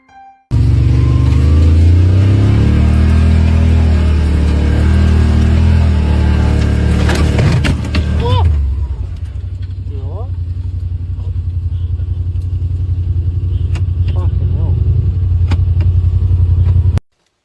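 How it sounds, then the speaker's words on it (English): A car drives through the Australian outback, its engine roaring loud and close with revving, then dropping to a rougher idle mixed with scattered knocks and crunches; voices are heard over it. "their car crunching over branches and pushing past the dense forest"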